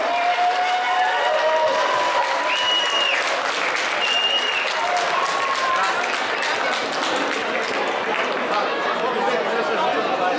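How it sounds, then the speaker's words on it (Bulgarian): Guests at a Bulgarian community celebration in Dallas clap steadily and loudly, mixed with chatter, scattered whistles and a few cheers across the room. "Аплодисменти за Краси и за екипа му."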